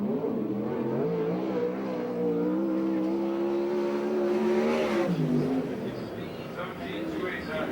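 A USAC/CRA sprint car runs a qualifying lap at Perris, California, its engine droning loudly with a rising, then falling pitch as it passes, under a track announcer's steady commentary.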